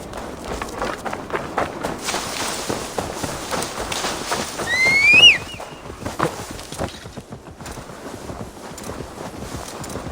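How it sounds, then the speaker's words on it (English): A horse gallops in Assassin's Creed Valhalla with a steady, rapid clip-clop of hooves, close and continuous. A brief whinny rises partway through over faint ambient game sound. "Now to deliver Magni his horse."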